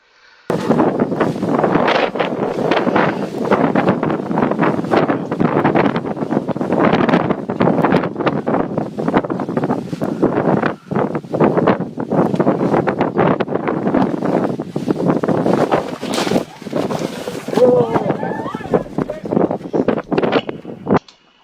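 Strong, gusting wind buffets the microphone at a speedriding launch site, a loud, continuous roar with rushing surges and flutter that runs unbroken for the whole stretch, with no voices.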